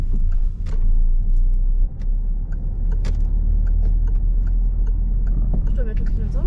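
A driving-school car pulls away again after gentle braking, its engine rumbling low and steady close by, with a few clicks and knocks, while people talk in the cabin over the running motor.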